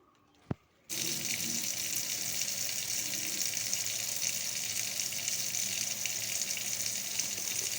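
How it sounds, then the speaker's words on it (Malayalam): Raw rice being rinsed under a running kitchen tap, a steady, close gush of water pouring into a sink that starts abruptly after a brief quiet moment and continues unbroken. "പച്ചരി നല്ലതുപോലെ കഴുകണം"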